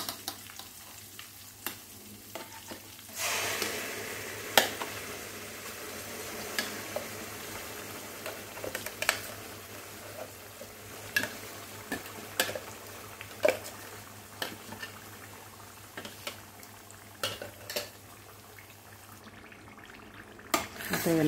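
Tomato paste hits hot oil tempering in a pan while tomato pickle cooks, giving a steady close sizzle with frequent scraping stirs and clacks of a spoon throughout, no talking.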